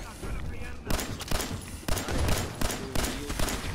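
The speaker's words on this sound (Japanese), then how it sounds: "爆発ピストル。" Explosive pistol rounds fired in the post-apocalyptic shooter Fallout 4, a run of loud, sharp blasts spaced roughly half a second to a second apart, each with a burst of crackle, over constant game background noise.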